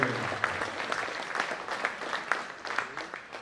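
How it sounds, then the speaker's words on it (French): An audience applauds during a lace-queen ceremony, giving a steady, moderately loud round of clapping with individual sharp claps standing out throughout the short stretch. "on peut l'applaudir très fort"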